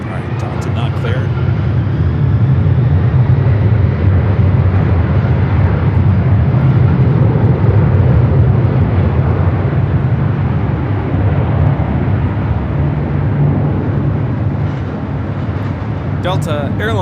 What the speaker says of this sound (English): Delta Airlines 528 taking off to Atlanta on the 767-300ER